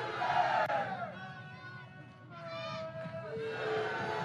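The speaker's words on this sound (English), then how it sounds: "As you can hear, the Sooner faithful have traveled to Puerto Vallarta, Mexico to cheer on their three-time defending national champion Oklahoma softball team" Oklahoma Sooner fans at a college softball game against Washington in Puerto Vallarta, Mexico raise a loud crowd roar that dips and then swells again, with shrill whoops over the noise.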